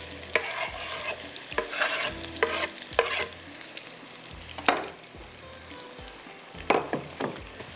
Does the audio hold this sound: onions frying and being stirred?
yes